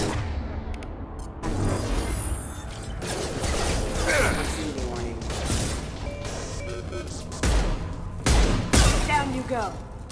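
Gunfire and crashing impacts in a sci-fi shooter battle in Mass Effect 2, dense loud bursts over continuous game noise, with voices calling out amid the fighting.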